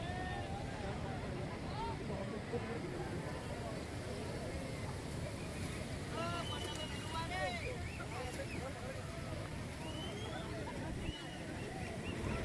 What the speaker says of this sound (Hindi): ये पानी यहाँ कितने आराम से जा रहा है, पर सीढ़ियों पर देखिए कितनी तेज़ रफ्तार से नीचे गिर रहा है।